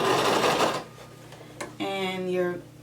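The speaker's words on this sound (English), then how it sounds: "So just go ahead and begin sewing." A sewing machine starts stitching a seam along a coat facing near the collar, a short steady whir that follows a brief burst of louder mechanical running, up close.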